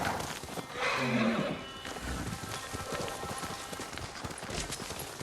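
A horse in the video game Ghost of Tsushima whinnies loudly near the start, followed by a steady patter of clip-clopping hooves under soft rain-like ambience.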